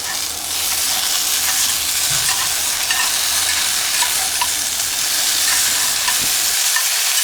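Potatoes and meat fry in a small cast iron skillet at a Black Hills campsite, with a loud continuous sizzle and occasional stirring scrapes, cutting off abruptly near the end.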